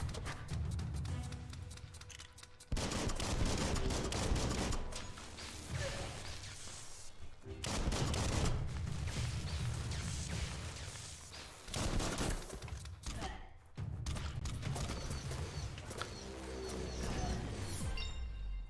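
Gunfire in the action game Biomutant, dense rapid bursts of shots and impacts in several volleys separated by brief pauses, with game music and effects underneath.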